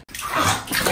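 Water rushing into a bathtub for a children's bath, a steady, bright gushing splash that runs loud and close after a tiny gap at the start.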